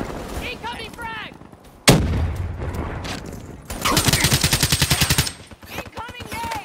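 Call of Duty Black Ops 3 multiplayer combat: a sharp grenade blast punches in, then a long, fast rattle of machine-gun fire, loud and near, with game voices calling out around it.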